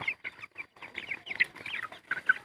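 Several chickens cluck close by in quick, overlapping bursts, with a few sharper squawks mixed in and no talking.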